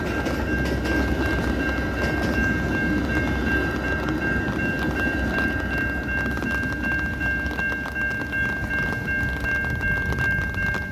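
A double-decker local train runs from Chicago toward Antioch and passes a lowered railroad crossing gate at Prospect Heights. A heavy, continuous rumble stays close and loud alongside a steady ringing tone, with no talking.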